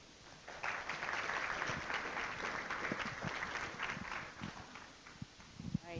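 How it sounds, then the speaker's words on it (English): An audience claps and applauds presenters after a talk on water conservation for Port St. Lucie Utility Systems, a dense, steady patter of hand claps that carries on for several seconds, moderately near, with no talk over it. "Let's give our presenters one more round of applause."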